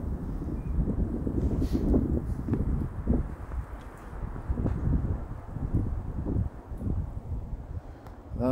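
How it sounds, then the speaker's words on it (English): Strong wind gusts across a snowy lake in below-freezing cold, a steady low roar with rushing, buffeting surges against the microphone that hold throughout. "Quite windy, as you can probably hear."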